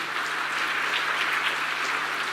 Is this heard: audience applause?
yes